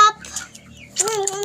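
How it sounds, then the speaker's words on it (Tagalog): Chickens cluck and call close by, with short bursts at the start and a louder call near the end, alone and without talking. "Ayun mga manok."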